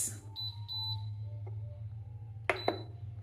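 An Instant Pot Pro electric pressure cooker gives a short electronic beep as its control dial is pressed, then a couple more sharp beeps follow over a low steady hum.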